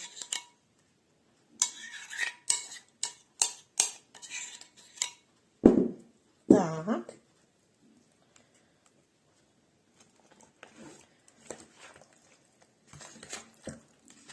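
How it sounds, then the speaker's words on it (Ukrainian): Hake fish pieces are stirred in marinade with a run of bright metallic clinks and scrapes of a utensil against a bowl, two louder thuds midway, then softer, sparser tapping. "перемішаємо нашу рибку, щоб вона повністю була в маринаді."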